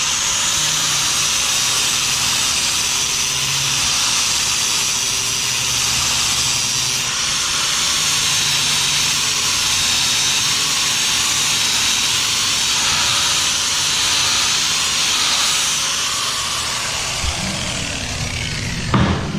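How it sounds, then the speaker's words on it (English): Angle grinder working a stainless steel weld on a planter box, a loud steady high-pitched whine and grinding hiss running continuously throughout, close and alone. "But watch this, I can take this grinder,"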